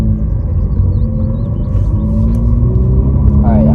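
A manual-transmission car holds a steady engine drone in first gear, revving between about 3,000 and 4,000 rpm before the shift to second. The engine sits loud and close and mostly constant, with a faint rise and change in pitch near the end.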